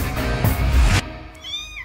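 A cat in a trailer for the animated superhero-pet film DC League of Super-Pets gives a single short, close meow that rings out alone right after a dense burst of music and effects cuts away.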